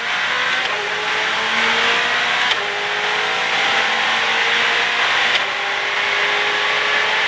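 Ferrari 488 Challenge Evo on a track, engine revving hard and climbing through the gears as it accelerates out of a turn, loud and close throughout.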